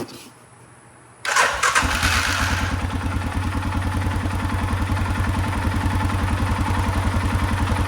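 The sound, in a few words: Arctic Cat Mud-Pro ATV engine starting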